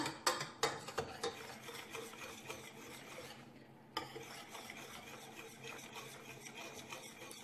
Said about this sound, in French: je mélange bien afin que le fond de ma casserole ne colle